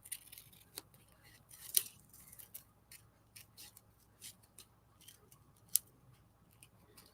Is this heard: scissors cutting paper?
yes